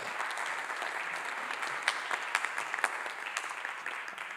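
Steady, dense applause from a panel audience at a 2023 book and arts event, sustained throughout with a few sharper, louder claps near the middle; no talk over it.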